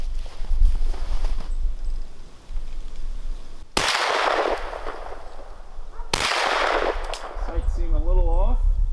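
Two sharp, loud gunshots from a Glock 17 in a Roni carbine conversion kit with a 16-inch barrel, a few seconds apart over quiet outdoor ambience, followed by someone talking.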